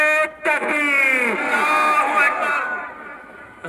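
A large crowd at a Jashn-e-Milad un Nabi gathering roars back a loud sustained unison chant in answer to the Nara-e-Takbeer call, many voices blended into one swelling shout that holds for several seconds before fading.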